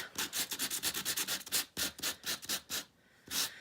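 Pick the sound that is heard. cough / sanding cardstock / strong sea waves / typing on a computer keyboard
sanding cardstock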